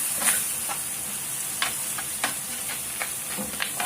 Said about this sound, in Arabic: نحاول نقلب اللحم في هاد البصله ومطيشه باش يدخل فيه مزيان